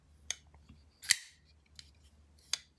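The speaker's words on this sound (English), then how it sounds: "the sound when you close this thing, oof, it's almost inaudible" A Shirogorov Division custom folding knife is closed, giving a few soft, crisp clicks spaced out over a quiet background, faint and close.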